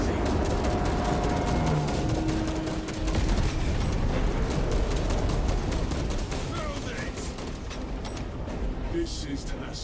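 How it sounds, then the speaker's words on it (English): Charges detonating in a video game ambush on a huge Hive beast: rapid crackling blasts and gunfire-like bursts throughout, with voices talking over the din. "Detonate the charges now."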